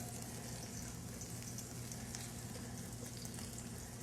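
Tuna burgers fry in a skillet, giving a steady, faint sizzle that runs continuously with no other sounds on top.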